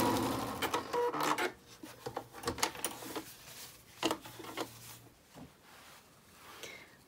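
A sewing machine stitches a fabric flap on a face-mask pouch, with short bursts of rapid mechanical clatter separated by pauses and lighter ticks, faint and close with no voices.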